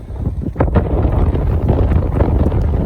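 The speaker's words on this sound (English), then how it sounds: "That's how hard the wind's blowing." Strong, gusting wind roars steadily outdoors, loud and continuous across the whole stretch with heavy low buffeting against the microphone.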